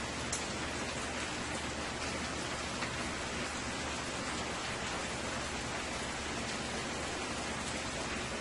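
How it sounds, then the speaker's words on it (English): Sauce drizzled over beef frying in a pan beside elbow pasta and vegetables, giving a loud, steady, broadband hiss and crackle of sizzling that runs unbroken and close throughout, with no talk. "I am going to go ahead and start drizzling my sauce all over my meat here"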